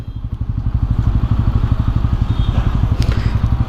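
A Bajaj Pulsar N160 4V motorcycle engine thumps in a steady, rapid pulse while crawling in gear with the clutch released and no throttle, close and even-toned throughout.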